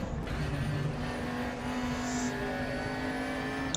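A race car engine in the sim racing game RaceRoom Racing Experience, played in VR, holds a steady, droning hum throughout, its tone shifting slightly as it runs, with no voices over it.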